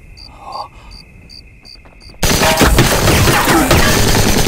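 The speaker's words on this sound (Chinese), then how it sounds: "枪声" Gunfire in an anti-Japanese war drama: after a quiet stretch of insects chirping in the night, a sudden loud, sustained burst of rapid shooting begins and continues, with no talk.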